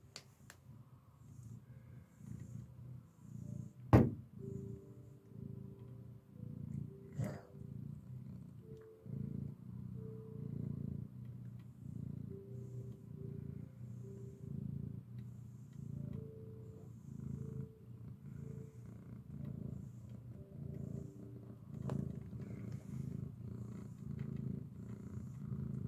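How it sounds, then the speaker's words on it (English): A sick cat purrs steadily and softly up close, a low rhythmic rumble lasting throughout, with one sharp click near the start. "Yeah, he's purring."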